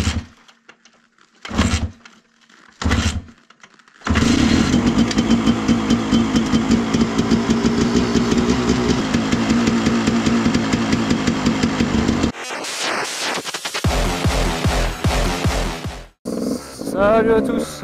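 Gas Gas enduro motorcycle left unused for a year, with year-old fuel and the choke on, coughs through a few short start attempts, then catches and runs loud and close with a rough, steady idle before the revs change and it cuts out.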